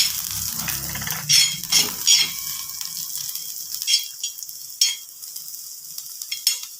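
Oil sizzles in a pan on a home stove while making puran poli and spicy amti, with a steady frying hiss broken by sharp clinks and stirring scrapes; no one speaks.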